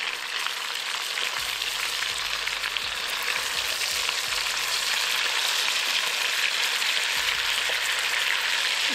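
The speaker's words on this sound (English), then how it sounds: "I'm gonna allow these pieces of beef to sear for 4 minutes without moving anything." Pieces of beef searing in a hot pan for Mexican barbacoa, a constant dense sizzle and crackle close up, steady and unbroken with no talking.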